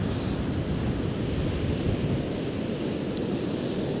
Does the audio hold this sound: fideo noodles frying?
no